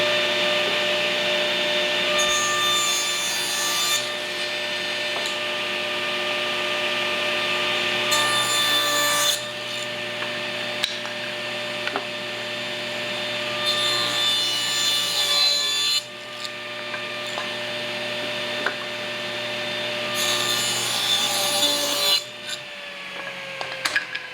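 Saw ripping wooden pieces in half for a lantern build, a steady machine whine with repeated rasping bursts of blade cutting through wood, close and loud, no talking.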